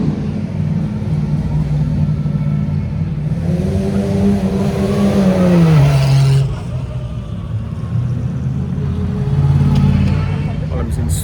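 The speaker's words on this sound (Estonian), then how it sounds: "suure kategooria autod, GT3-d sõitsid just mööda" GT3 race car engines roar and rise in pitch as the cars sweep past in a street parade at Spa before a 24-hour race, then fade into crowd noise, with voices talking over it.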